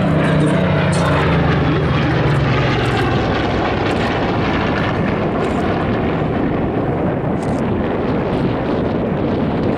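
Formation of WWII piston fighters led by a Curtiss Model 75 roars overhead, a loud continuous propeller-engine drone with buffeting wind noise throughout and no talk.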